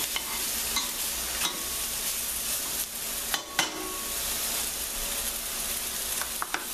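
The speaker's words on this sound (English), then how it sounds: "About 3-4 minutes stirring it" Mirepoix vegetables are stirred in a pot for soup, a steady close scrape and shuffle over a low sizzle, with a few sharper clinks of the spoon against the metal.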